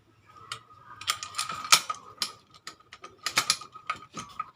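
A socket wrench with a 12 mm socket on an extension turning a bolt counterclockwise inside a Foxeye bicycle suspension fork, giving close, irregular bursts of ratcheting clicks with short pauses between strokes.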